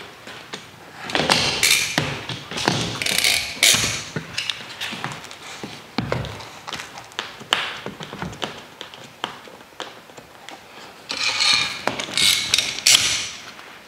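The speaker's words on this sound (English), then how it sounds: "let's go ahead and put those clamps on" Clamps are fitted and tightened on a woodworking glue-up in a wood shop, producing repeated clicks, ratcheting and metallic taps in irregular bursts, close and loud.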